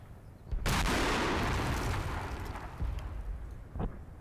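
A light mortar barrage explodes in the Combat Mission: Battle for Normandy video game: one loud, close blast with a long rumbling decay, followed by a smaller pop near the end.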